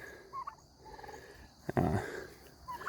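A pastured turkey lets out a short, rattling gobble nearby, with softer chirping calls from other birds before and after.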